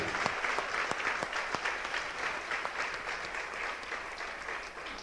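Steady applause from a church congregation fills the space, many hands clapping together at a moderate, even level with no talk over it.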